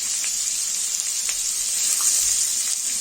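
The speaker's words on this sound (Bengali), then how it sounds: "এই যে তেলে আলুগুলো দিয়ে দিলাম, এখন হলুদ দিয়ে দিলাম" Potatoes with turmeric fry in hot oil, a steady close-up sizzle of bright hiss that holds evenly throughout with a few faint pops, no voices.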